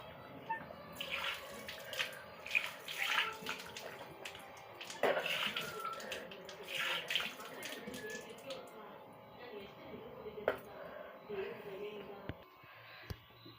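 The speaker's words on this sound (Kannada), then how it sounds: "ನಾನು ನೀಟಾಗಿದ್ದನ್ನ ವಾಶ್ ಮಾಡ್ಕೊತಾ ಇದ್ದೀನಿ" Tap water runs steadily while a homemade face pack is rinsed off, a continuous splashing wash with occasional louder spatters and clicks, close and moderately quiet, with no talk over it.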